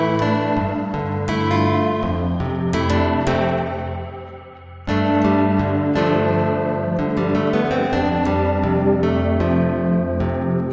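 Clean electric guitar run through a HeadStack multi-head tape delay on a plucked chorusing preset: steady plucked notes bloom into shimmering, chorused repeats that wash together, with one brief dip in the middle before the dense wash picks back up.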